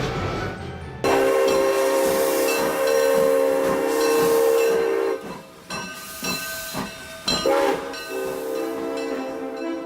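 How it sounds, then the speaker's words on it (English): A simulated train rolling on tracks inside a museum exhibit in Old Sacramento, with a steady hissing, steam-like rumble and tonal horn-like drones that stay loud for several seconds, then break into uneven bursts. "You can hear the sound of the train on the tracks."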